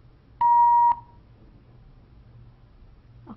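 On a TV call-in show, a dropped phone call gives a single clean electronic beep lasting about half a second, followed by faint line hiss and low hum.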